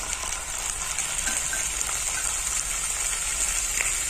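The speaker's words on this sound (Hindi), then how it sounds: "अब इसको मैं अच्छे से फ्राई करूँगी" Chopped tomatoes and golden-browned onions fry in a pan with a steady, close, dense sizzle and crackle that holds evenly throughout, no voices.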